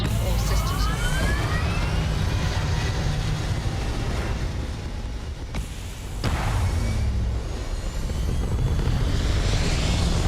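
Spacecraft liftoff in a Star Wars video game: a loud, steady engine roar fills the whole stretch, dipping briefly midway before surging back, with faint whooshing sweeps layered on top.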